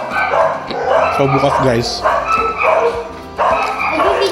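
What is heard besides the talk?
dogs barking at night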